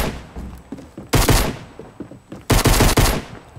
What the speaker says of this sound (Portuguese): Gastei todos os meus tiros da arma e não matei o cara.